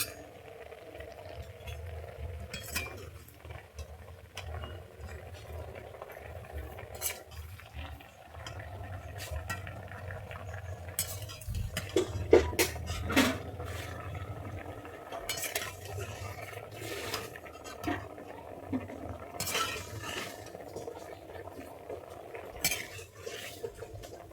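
A cooking pot of boiled sola kochu (taro stem) lifted off the stove, with scattered metallic clinks, knocks and utensil scrapes across a quiet kitchen and no voices.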